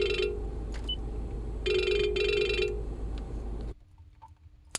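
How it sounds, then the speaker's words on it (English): An incoming-call phone ring sounds as a sustained electronic trill in bursts, loud and close over a background hum, then stops suddenly, leaving near silence. "Sorry about that. I just got a phone call."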